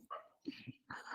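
Pet dogs bark in a short burst of three close, sharp barks, one after another, with no talking over them.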